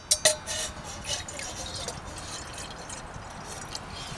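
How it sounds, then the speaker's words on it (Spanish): Water running from a tap into a small saucepan, a couple of sharp clinks at the start, then a steady, faint trickling hiss. "lo que voy a hacer es llenar mi cazo de agua"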